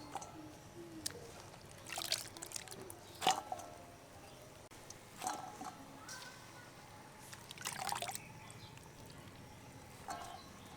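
A soaked banana stem being lifted from water and shaken, giving faint, scattered splashes and trickles of dripping water in a few short bursts, quiet and close.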